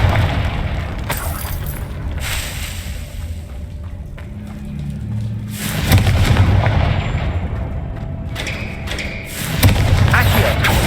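Blasting spell detonating in the Hogwarts Legacy video game, heavy booming impacts around six and ten seconds over a low rumbling background, fairly loud and close.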